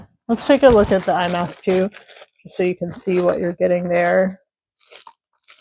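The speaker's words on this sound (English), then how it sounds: "Sorry for the plastic noise." Plastic packaging around a travel eye mask, sold with a neck pillow, crinkles and crunches in brief bursts as it is handled, heard under steady close talk from a person.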